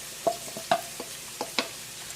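Garlic and onions in a few tablespoons of hot cooking oil, a soft low sizzle with several sharp clicks and scrapes of stirring, fairly quiet and close.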